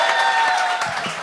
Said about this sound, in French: Vous pouvez applaudir tout de suite, tout le monde, on applaudit pour Claudel